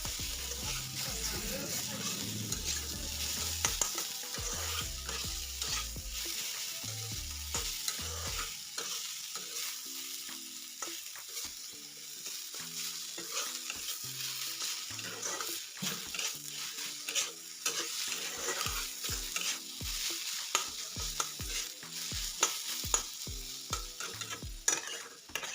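Grated radish stir-fried in a pan with a spatula, a constant sizzle broken by repeated scraping and tapping strokes that grow more frequent toward the end, with occasional talking.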